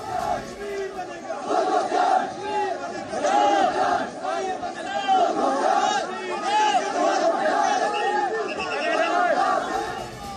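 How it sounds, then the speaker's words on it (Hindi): A large crowd in Pakistan-occupied Kashmir chanting slogans against Imran Khan, loud massed voices shouting in rhythmic repeated phrases that fill the whole stretch without pause. "अब जरा इन नारों को गौर से सुनिए।"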